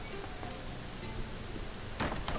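Steady rain falling in the video game Mr. Prepper, a continuous hiss of drops on a surface with a brief louder patter near the end, heard alone without talk.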